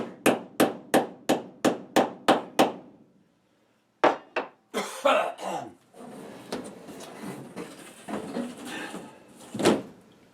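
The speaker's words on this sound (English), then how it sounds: "that's why I'm kind of ticky-tacking with the hammer" A hammer taps in an even series of sharp knocks, pauses briefly, then resumes with irregular, scuffing blows and clatter nearby.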